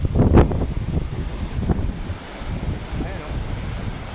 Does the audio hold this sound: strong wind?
yes